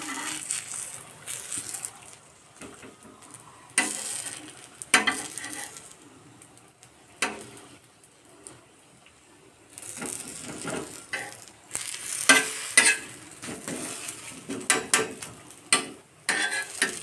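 Patishapta crepes fry in a pan, with an intermittent sizzle that swells and fades alongside scraping and stirring clatter at close range.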